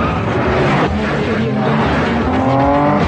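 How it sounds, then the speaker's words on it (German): Street racing car engines roar loudly and continuously, with revving, pitch sweeps and possible tire squeal, under a dense movie trailer mix where voices also speak. "Schmeiß die Motoren an!"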